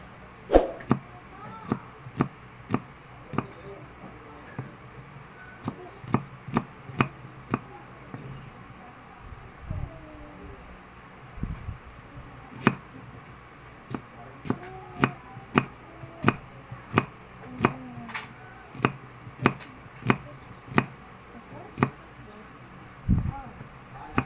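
Onion being chopped for a labong (bamboo shoot) salad: evenly spaced, sharp knife chops on a board, some in quick bursts, with faint background voices between them.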